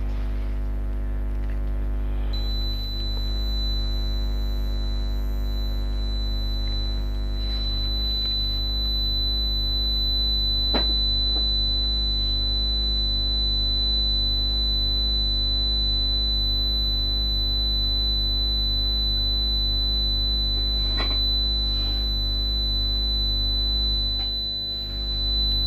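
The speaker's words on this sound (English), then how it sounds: "hintayin ko na lang po mag-beep" A steady high-pitched electronic beep from a hair curler sounds over a constant low hum, with a few faint clicks along the way; no talking.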